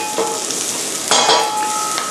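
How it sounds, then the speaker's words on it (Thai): Hot oil sizzles steadily as sliced fennel is stir-fried quickly in a pan over high heat, with a louder burst of frying midway and light utensil scrapes. "ผมเร่งไฟเลยแล้วผมลงเฟเนล ครับผมผัดอย่างเร็วครับ"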